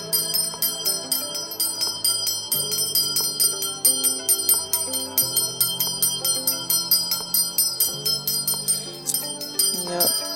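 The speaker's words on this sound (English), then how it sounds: "let me just go on ahead and cleanse a little bit more with my bell here" A small hand bell is rung for energy cleansing, ringing in rapid, continuous shimmering strikes that sustain across the whole stretch against a soft droning tone, clear and close.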